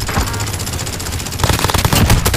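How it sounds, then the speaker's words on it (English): Loud, rapid machine-gun fire rattles continuously in a war video game, growing denser and heavier toward the end. "Receiving hostile fire."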